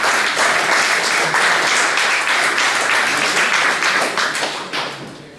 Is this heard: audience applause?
yes